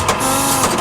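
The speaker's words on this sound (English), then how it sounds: "So the semen is being filled here. These needles are coming together and then sucking," Laboratory semen straw filling machine, its needles closing together and sucking as the straws fill, giving a close, continuous mechanical hum and whir.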